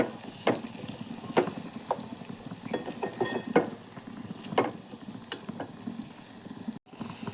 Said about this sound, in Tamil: நல்லா கலந்து கொடுங்க இன்னும் கொஞ்சம் தக்காளி வணங்கட்டும்